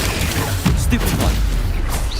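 A stunning spell cast in Hogwarts Legacy lands as a sharp, loud boom with rumbling impact noise and layered game effects, followed by a brief rising tone near the end.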